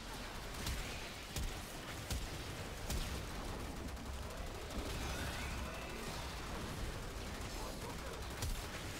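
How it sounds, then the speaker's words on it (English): Grenier shotgun shots in the video game Warframe, a handful of sharp, punchy blasts spaced irregularly over a dense, constant layer of in-game noise. "this is going to be the Grenier shotgun"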